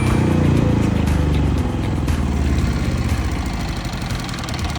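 A Philking PK10000 generator with a 195 engine and digital controller runs steadily, a loud, close, continuous engine drone with an even low throb throughout and no speech.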